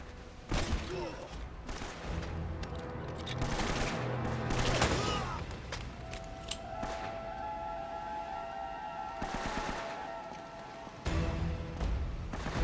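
Enemy gunfire in the video game Uncharted: Drake's Fortune: bursts of rapid shots and booms over game music and effects, with someone talking over the action.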